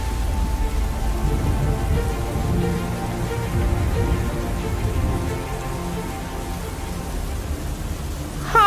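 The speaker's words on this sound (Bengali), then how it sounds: "অনেকদিন পর আমরা সবাই একটু বৃষ্টি পেয়েছি" Steady rain falls throughout as a dense, even hiss, fairly close and alone, easing slightly in the latter half.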